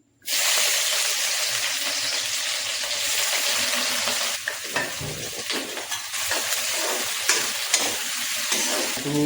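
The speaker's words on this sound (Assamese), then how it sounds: "যেতিয়ালৈকে মানে ব্ৰাউন কালাৰটো নহয়, তেতিয়ালৈকে আমি পিঁয়াজটো ভাজি থাকিম" Onions fry in hot oil for pork with bamboo shoot, a loud, dense, continuous sizzle with bursts of stirring and scraping throughout.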